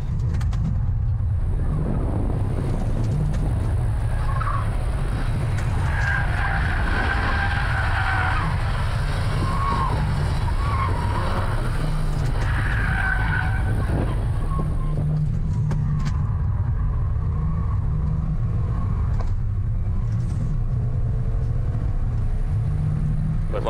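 A car, either an Opel Zafira OPC or a Chrysler PT Cruiser, launches hard with tire smoke, its engine roaring loud and steady for a long stretch under heavy rumbling noise, with no talk.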